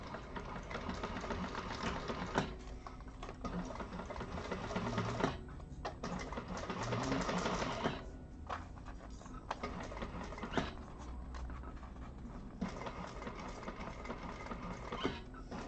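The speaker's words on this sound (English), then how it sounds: "I will probably be doing 2 lines of stitching again just because I'm using such a thick vinyl" A sewing machine stitches thick vinyl for a vintage handbag, giving a fast, steady, close rattling patter with brief pauses and changes in speed.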